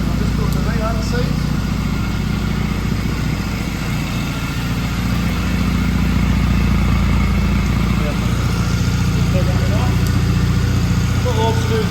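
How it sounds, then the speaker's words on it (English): A 2008 Triumph Bonneville T100 motorcycle idles steadily while warming up, a constant low engine rumble running close and loud through the whole stretch with no speech. "Just while the bike's warming up, I'll just confirm everything's working as expected."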